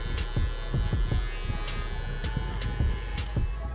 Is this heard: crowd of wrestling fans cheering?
no